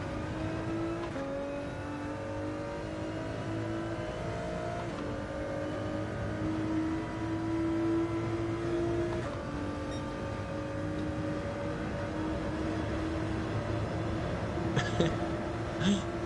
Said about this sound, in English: I saw the Porsche fly past me.